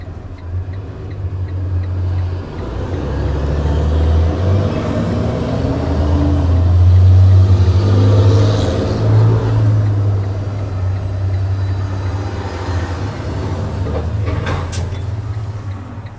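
Cars drive past close by, a broad rumbling whoosh that swells to a peak in the middle and fades again, with a steady low engine drone throughout.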